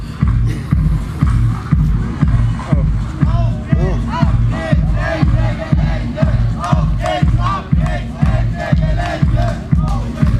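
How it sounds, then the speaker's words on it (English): Crowd at a coal infrastructure protest in Germany chanting in a steady, rhythmic pulse, loud and close, repeated beats of voices and stomps throughout. "We're just show you the crowd for a second."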